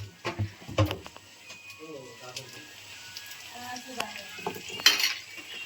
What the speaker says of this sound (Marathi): तेल मस्त तापलंय आणि विशाल भाऊने टाकलेत लॉलीपॉपचे पीस